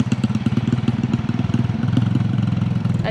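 Engine of a vehicle driving through South Sulawesi, Indonesia toward a Toraja funeral, a steady loud low rumble with rhythmic pulsing throughout, no speech.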